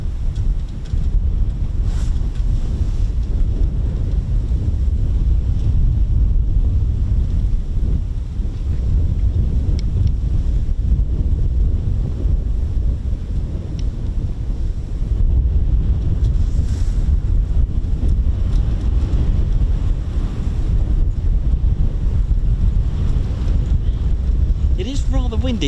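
Strong wind buffets an outdoor microphone with a constant low roar and gusting rumble throughout, near and loud, at the open coastal setting of an RAF air weapons range.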